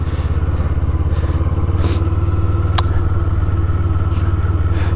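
Cruiser motorcycle engine rumbling steadily up close in cold 20-degree weather, a continuous low throb with slight shifts in tone as the rider downshifts along a rural road by an irrigation canal.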